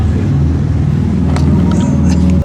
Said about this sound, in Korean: 포르쉐에서 가장 강력한 모델인 GT2 RS를 타보도록 할게요